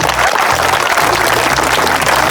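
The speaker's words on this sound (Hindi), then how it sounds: "से सार को पाई टिके जोर जार ताली दियंतु" A crowd at a college magic show applauds loudly and continuously, a thick wall of clapping over a low electrical hum.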